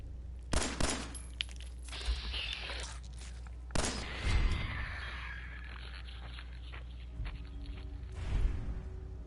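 Gunfire at a radroach in Fallout 4, heard as a few separated loud shots with rattling bursts between quieter stretches, close and sharp over a low game background.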